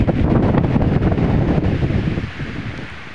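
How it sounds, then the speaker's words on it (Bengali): Strong, steady wind from Cyclone Remal buffets the microphone outdoors in a flooded village, roaring loudly and continuously before easing somewhat toward the end. "অতিরিক্ত বাতাস।"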